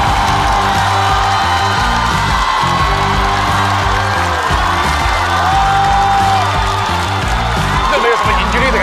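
A studio audience at a Chinese stand-up comedy show applauds and cheers loudly and continuously for Wang Xiaoli and Gao Han, with whoops over a steady roar and music playing underneath.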